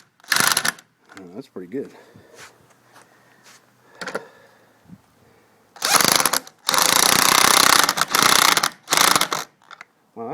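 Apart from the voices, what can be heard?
impact wrench tightening anchors in a carport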